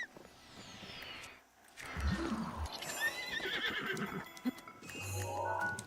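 A video-game horse lets out a loud whinny, followed by the clip-clop of hooves and other game sounds, close and fairly clear with no talking over it.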